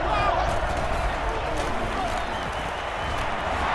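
Steady stadium crowd roar in the NCAA Football 2009 video game, a dense, constant wash of cheering that sits loud and unbroken.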